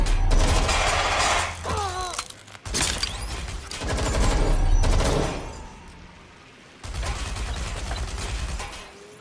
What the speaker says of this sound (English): I'm getting shot here!